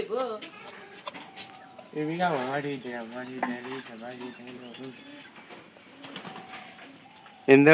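Pigeons perched on a tin roof, giving repeated throaty coos and warbles at close range, with a person talking at times and a sudden louder burst at the very end.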